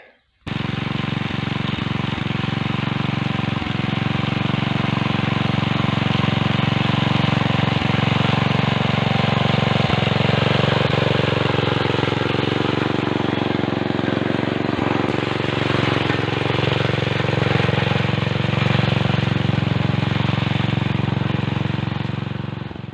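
A walk-behind tractor engine runs steadily and loudly while hilling potatoes in soft soil, its close, continuous mechanical drone and rattle holding throughout with no talk.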